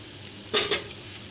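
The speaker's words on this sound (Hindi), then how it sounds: "इसको थोड़ा सा चम्मच चलाएं" A spoon stirs fresh milk into a chicken patty mixture in a bowl, making two quick scraping clinks close by over a faint background hum.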